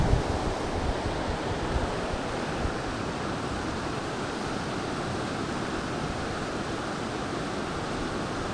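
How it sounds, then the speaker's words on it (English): Rushing river rapids near the Duck Reach hydro power station, a steady dense roar of white water holding at the same loud level throughout with no voices. "I don't know how these rapids compare with any other places that kayakers might go"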